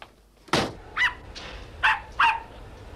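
A dog barks four times in a house, one sharp loud bark followed by three shorter, mid-pitched yaps spaced about half a second apart, with no talking.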